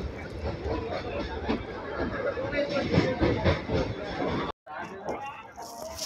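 The Bidar intercity express pulls away from Zaheerabad station, a rumbling, rattling run of the train under a chatter of passengers, cut by a brief drop before the noise resumes.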